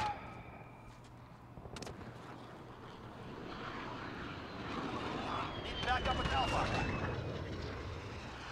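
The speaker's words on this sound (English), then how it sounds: "Oh no, there's a plane in the sky." An airplane drones overhead in Call of Duty: Modern Warfare, a broad rising whoosh that swells through the middle and end, mixed with game noise and someone talking over it.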